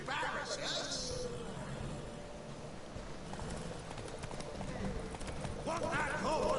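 Horse hooves clip-clop steadily in The Witcher 3, with a brief whinny, under constant game background noise and frequent voiced dialogue.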